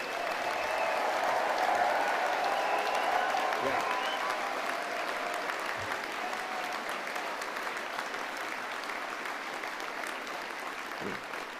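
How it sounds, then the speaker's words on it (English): Sustained applause from graduates at a University of Stirling summer graduation ceremony, a steady, dense wash of clapping from a large seated crowd in a hall that holds evenly loud and tapers slightly toward the end. "give yourselves all a big round of applause"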